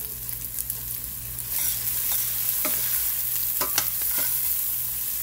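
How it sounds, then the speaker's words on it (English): Brussels sprouts and onions sizzle steadily in a pan while a utensil stirs them, with scraping clicks and soft crackle throughout and no voices. "Get them all stirred up, y'all."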